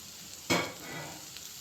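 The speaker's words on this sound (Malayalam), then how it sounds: "കുറച്ച് കടുക് ഇടുന്നു, വെച്ച സവാള ഇടുന്നു, അരിഞ്ഞു വെച്ച ബീട്രൂട്ട് ഇടുന്നു." Mustard seeds, chopped onion and beetroot hit hot oil in a pan for Kerala-style beetroot thoran, setting off a sudden loud sizzle that settles into a steady crackling fry.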